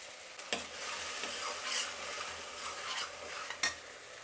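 Tomato puree and ground masala fry in a pan with a steady sizzle, and a utensil stirs and scrapes the pan now and then. There is no talk.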